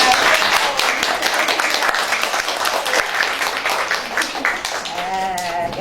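An audience applauds a teacher at a talent academy master class, dense steady clapping filling several seconds and tapering near the end as a voice begins.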